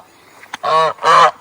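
A goose on a farm honks twice in quick succession, loud, close and nasal, after a small click, with nothing else audible.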